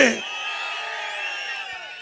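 A large crowd at an election campaign rally in Tiruvallur erupts in loud, sustained cheering and whoops that swell at once and hold steady, with voices blending into a dense roar.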